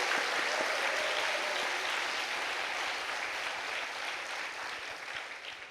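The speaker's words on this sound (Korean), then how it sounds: "박수 보내겠습니다." A church congregation in Incheon applauds during a Sunday afternoon service, a steady, dense wash of clapping from many hands that tapers off slightly toward the end, with no voices over it.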